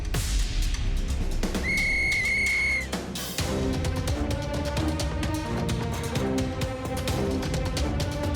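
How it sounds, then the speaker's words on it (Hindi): A cartoon starting whistle blown to begin a race in an adventure cartoon, heard as a sustained shrill tone over busy background music, with brief squawky accents around it. "सीटी बजाते ही रेस शुरू हो जाएगी।"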